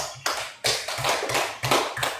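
A class claps for a student group in a rhythmic pattern, with loud bursts of clapping repeating in sets and brief pauses between them.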